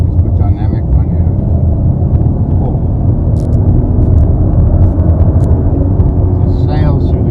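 An Audi SQ7 V8 SUV in dynamic mode accelerates hard through its gears, producing a loud, steady, deep engine rumble that holds without a break from start to finish.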